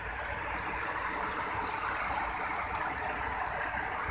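Clear stream water flows steadily at Cadas Malang, a broad continuous rush and gush held at an even level for the whole stretch, with no voices over it.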